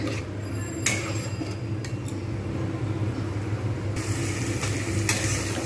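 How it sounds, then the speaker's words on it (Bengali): Spice masala being stir-fried in oil for a patal paneer curry, a continuous close sizzle with scraping stirs and a few sharp utensil clicks against the pan, steady and fairly loud, with no talking. "এবার এর সঙ্গে আমি খুব ভালোভাবে এটা কষিয়ে নেবো"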